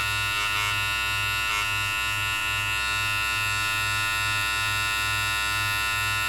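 Electric hair clippers with no guard, blade fully open, buzz with a steady close mains-like hum while cutting hair, the tone holding constant throughout with slight flutters as the blade meets the hair.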